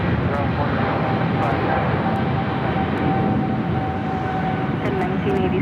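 An EVA Air airliner rolls down the runway at LAX, a steady, loud roar of jet engines filling the whole stretch with only slight swells, heard from a distance across the airfield.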